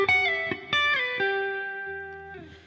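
Clean, dry electric guitar lick from a tune, a handful of plucked notes in quick succession followed by one note left ringing and slowly fading, close and clear with no talking.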